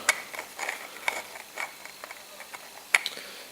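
A threaded fitting being screwed onto a turned spalted beech lamp, giving a series of light, irregular clicks and scraping ticks, quiet and close, with one sharper click near the end.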